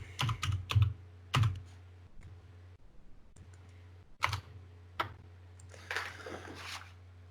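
Password typed on a computer keyboard in a quiet room, a few quick bursts of key clicks with pauses between, a low steady hum underneath.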